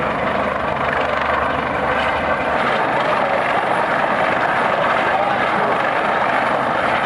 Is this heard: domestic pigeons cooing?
no